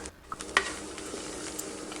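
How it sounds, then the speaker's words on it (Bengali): Shrimp heads fry over medium heat in a pan, a faint steady sizzle with a few soft clicks of stirring against the metal. "দেখেন আমার চিংড়ি মাছটা কিন্তু ভাজা হয়ে যাচ্ছে।"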